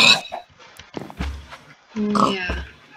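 A Minecraft pig oinks in short, close grunts, two or three quick snorts spaced across a few seconds, loud and clear with a little background clatter.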